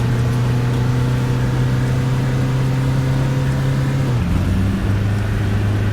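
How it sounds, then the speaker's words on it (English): A bus engine in the driving game Fernbus drones loudly and steadily at a low pitch, then the tone drops and shifts near the end as the engine note changes, with no voices. "I've got the engine sound way too loud for this vehicle."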